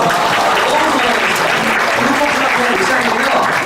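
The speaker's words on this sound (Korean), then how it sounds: "박수 한번 주세요." Dense, steady applause from a church congregation during a Sunday service, rewarding a child's answer; loud, close and continuous throughout with no pause.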